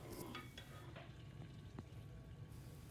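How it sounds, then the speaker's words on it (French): Butter melts in a saucepan with a soft, faint sizzle and a few light clinks of a utensil against the pan. "Fondre le beurre dans la casserole."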